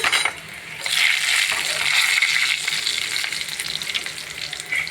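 Cumin, mustard seeds and dried red chillies sizzle loudly in hot oil for a raw mango rasam tempering, a dense crackling hiss close by with scattered sharp pops, steady throughout with no voices.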